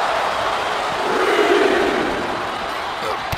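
An arena crowd in the WWE 2K24 wrestling game roars and cheers at The Undertaker versus Sting match, a loud, dense wall of noise that swells in the middle and stays constant throughout.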